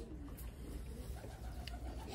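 A pigeon coos in low, soft, continuous murmurs that run steadily through the whole stretch at moderate level, with no talking over them.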